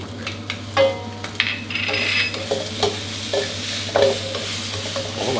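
Crispy pork and garlic dry-fried in a wok crackle steadily up close, overlaid with scraping spatula strokes and occasional metallic clanks against the pan.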